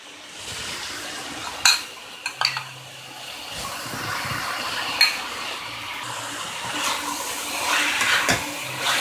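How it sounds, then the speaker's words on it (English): Vegetables and pizza pasta sauce mixed together for a casserole, with continuous wet stirring and several sharp scrapes and knocks of a utensil against the dish, close and fairly loud. "Give this a good mix."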